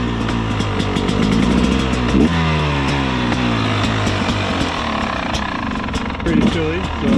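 A 2023 Beta 250 RR two-stroke motorcycle starts on a chilly day and settles into a loud, close, buzzy idle with uneven blips of revving throughout.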